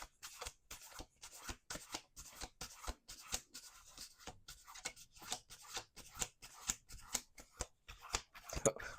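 Playing cards being shuffled close up in a steady run of quick riffling bursts and sharp slaps, with faint rubbing between the strokes.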